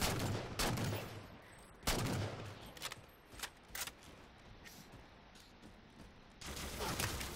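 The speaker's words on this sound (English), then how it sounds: "some artillery comes in and destroys some things for you" Heavy artillery strikes in Halo 4 Spartan Ops, the video game, come as several loud booming blasts spaced a few seconds apart, with smaller crackling impacts and rumble between them.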